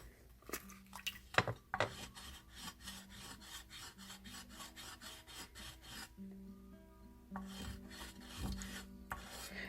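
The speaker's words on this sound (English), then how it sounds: "I actually put my sandpaper flat on the bottom, and then you can just kind of run it along." Sandpaper held flat rasps along the bottom of an opal polymer clay piece in repeated close, scratchy strokes, with a few sharper taps early on and a brief pause midway.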